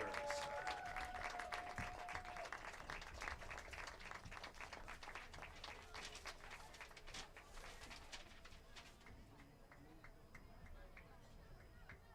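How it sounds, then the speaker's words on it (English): Crowd at a girls' varsity soccer game applauding the seniors gathered at center field, sustained outdoor clapping that gradually thins and fades, with an announcer's voice over it early on. "let's give one big round of applause to our amazing seniors."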